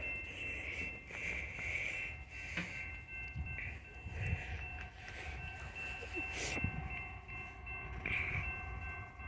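BNSF U-SWECKB coal train with Canadian Pacific power rolling through Brookfield, Illinois, a steady low rumble and drone with tonal squeals, heard at moderate distance while people talk faintly over it.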